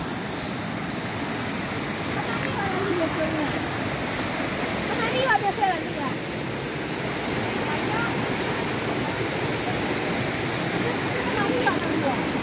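Rushing water pours steadily at a river near a waterfall at the Sarasah bathing spot in Padang. A constant, dense roar fills the whole stretch with no breaks, and faint voices sit underneath.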